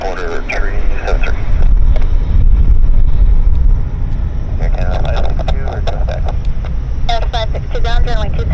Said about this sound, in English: Oh, there's the wind.